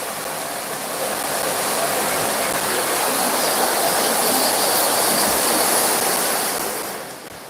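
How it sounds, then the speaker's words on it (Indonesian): Heavy rain pours down in a dense, steady hiss that swells slightly and stays loud, close and unbroken before easing at the end, with no voices. "Hujannya cukup deras."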